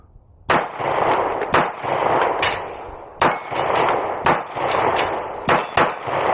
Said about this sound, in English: Let's go shoot a little bit longer distance.